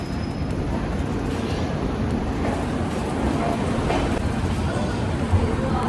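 A train pulls out of a busy Kolkata station with a steady low rumble and roar of wagons rolling close by, continuous throughout with faint voices mixed in.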